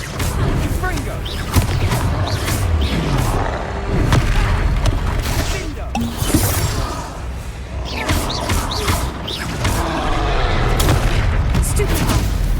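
Confringo explosive spell blasts in Hogwarts Legacy combat, loud booming impacts and thuds over busy game effects and music, with a voice speaking over parts of it.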